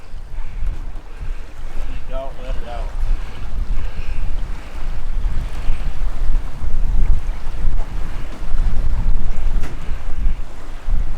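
A sailing catamaran running downwind under its genoa on a voyage from the Bahamas to Charleston, with loud, constant wind buffeting the microphone over the wash and rush of waves along the hulls.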